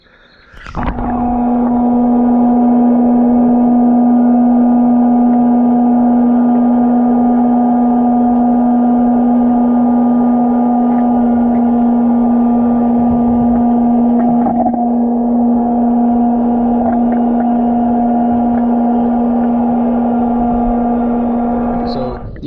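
A Kraftek Pool Keeper K1 handheld pool vacuum running steadily for about twenty seconds, a loud continuous motor hum with a strong tonal whine, sucking thick debris and dirt from an above-ground Intex-type pool, with a faint disturbance midway.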